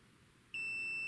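Continuity tester buzzer during restoration of a 1938 Robbins & Myers 16-inch Double Diamond pedestal fan, giving one steady high-pitched electronic beep lasting about half a second, close and clear after a quiet room.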